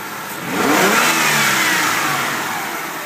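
Freshly serviced 1999 Hyundai Sonata engine, new spark plugs fitted, climbs into a rev after a brief quieter start, then holds a smooth, loud, close mid-range drone that slowly eases off.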